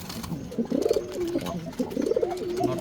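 Pigeons in a loft, a chocolate-coloured pair sitting on eggs, give soft repeated throaty coos in close overlapping phrases with no talk.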